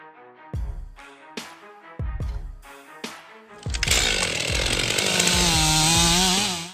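A chainsaw idles with a few sharp blips, then roars to full throttle and cuts steadily into a tree, loud and close, the engine straining under load.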